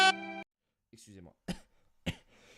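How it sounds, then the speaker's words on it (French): A man gives a single quick voiced cough or throat-clear at the start of a French-language SimCity 4 gameplay intro, then speaks in short bursts after a brief pause. "l'intro qui commence bien, le mec qui tousse direct"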